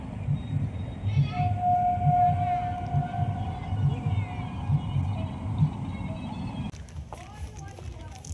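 A train passes by near a wetland with a rhythmic rumbling of wheels and a long, steady horn blast sounding over it, while people talk nearby.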